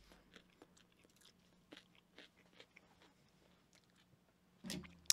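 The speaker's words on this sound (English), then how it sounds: "here's the bite of the beautiful sandwich" Close-up bites and chewing of a sandwich, a string of soft crunching and moist mastication sounds spread over several seconds, ending in a louder burst of noise, with low background hum and no talking.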